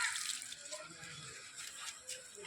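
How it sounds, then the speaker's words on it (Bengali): Water is poured onto household plants as part of a daily routine, a steady splashing hiss throughout at moderate volume. "গাছগুলোতে একটু জল দিয়ে দিচ্ছি প্রতিদিনের মতন।"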